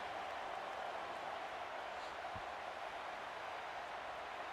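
Stadium crowd in a football video game roaring after a punt return touchdown, a steady, dense wash of distant cheering and noise that holds evenly throughout without any clear voice on top.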